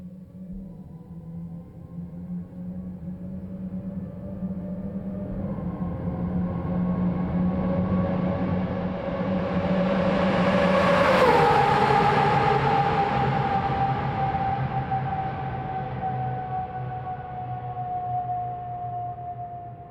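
A £3m Aston Martin Valkyrie AMR Pro revs hard inside an F1 wind tunnel, a loud, high-pitched engine wail climbing steadily in pitch, peaking, then dropping back and holding a sustained tone.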